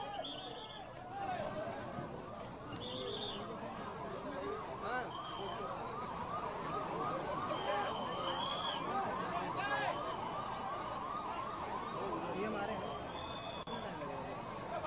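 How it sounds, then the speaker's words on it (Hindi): Fire brigade and ambulance sirens wailing at the scene of an Air India plane crash in Ahmedabad, overlapping rising and falling tones that run continuously at moderate distance, over crowd babble. "फायर ब्रिगेड और एम्बुलेंस की गाड़ियों के सायरन की आवाज आप सुनिए"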